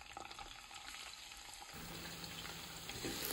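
Ground garlic tossed into hot oil already holding whole spices sizzles with a bright, steady frying hiss that swells louder partway through as it is stirred.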